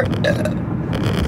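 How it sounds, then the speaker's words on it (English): A single loud, drawn-out human burp running through the whole moment, rough and low, close to the listener with no talk over it. "Burp."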